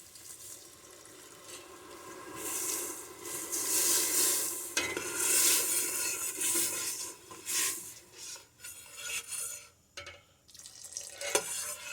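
White wine poured into a hot pan of cooked onions to deglaze it, setting off a sudden burst of loud hissing and bubbling that surges and then gradually dies down, with a few clinks near the end.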